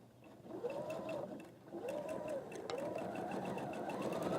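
A sewing machine stitches in a close, steady mechanical whir that rises and falls in a few long runs, with a faint tick from the needle mechanism.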